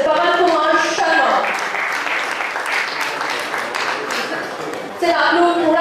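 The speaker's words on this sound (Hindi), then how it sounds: "जरा जोरदार तालियों के साथ let's welcome Mr. Pawan Kumar Sharma" An audience claps loudly to welcome an IAS officer onto the stage at a celebration, a broad wash of applause swelling between stretches of a voice speaking over a microphone at the start and end.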